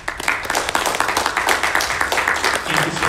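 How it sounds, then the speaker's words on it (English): An audience claps steadily throughout for a speaker at a special presentation in a Presbyterian church, a dense, continuous patter of many hands. "let's give our speaker another round of applause"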